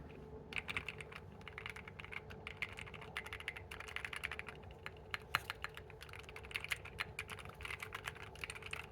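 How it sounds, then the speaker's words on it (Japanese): Steady, fast typing on a mechanical keyboard modded with foam, masking tape and lubricant for quieter sound, a continuous stream of soft clacks with occasional sharper key hits, no voices. "キースイッチとキーキャップの取り付けが完了しましたので、音ぜひ聞いていただければと思います"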